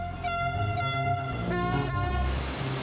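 A train at Cerbère station, the line's terminus between the sea and the tracks, sounds its horn in loud sustained blasts with rumbling and screeching machinery close by.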